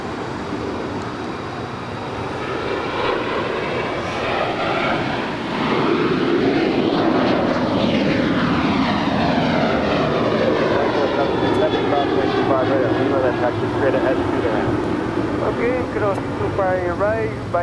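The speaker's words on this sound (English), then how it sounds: "We do have that Alaska Airlines Flight 208 heading to Cabo." An Alaska Airlines Boeing 737-900ER departs LAX, its loud jet roar building and passing with sweeping tonal whines shifting in pitch, while voices talk over it throughout.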